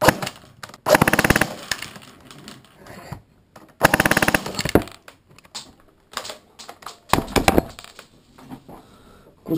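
A KS P90 airsoft gun fires full auto with 0.2 g BBs at about 17-18 rounds per second, three long rapid bursts of sharp, dense clicking shots, loud and close, separated by quieter pauses and small handling noises.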